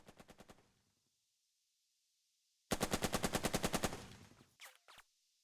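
Automatic gunfire in the war game Burden of Command, a short rapid burst, then silence and a longer loud rattling burst with a fading echo.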